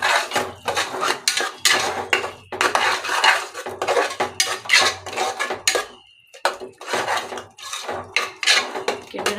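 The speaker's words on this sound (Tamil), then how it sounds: "சும்மா கொஞ்சம் போட்டு நல்லா கிண்டிடுங்க." A ladle scrapes and clatters around a metal pot of kuska rice in rapid repeated strokes, loud and close, with short pauses between bursts and no voices.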